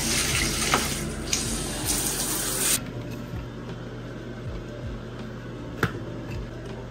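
Water from a home shower runs in a steady broad hiss, louder and brighter for the first few seconds before dropping to a softer, even flow with occasional faint knocks and splashes; no one speaks.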